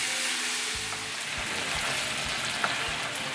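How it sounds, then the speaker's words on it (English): Butter, 125 grams, being stirred into hot caramel for tarte tatin, a loud, steady hiss of bubbling sugar with faint knocks of the spoon against the pan. "So that's 125 grams of butter. We're just going to stir that in."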